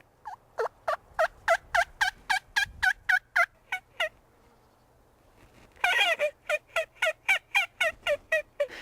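Turkey locator call mimicking a gobbler, a rapid run of sharp rattling gobble notes, a pause, then a second louder burst of repeated gobbles, close and clear with no talking.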